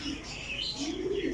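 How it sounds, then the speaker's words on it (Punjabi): A pair of pigeons cooing, soft low coos drifting in and out over a faint background with some higher chirping, fairly quiet and close throughout. "ਇਹ ਮੁਕੰਮਲ ਕਬੂਤਰ ਜੇ, ਇਹ ਜੋੜਾ ਜੇ।"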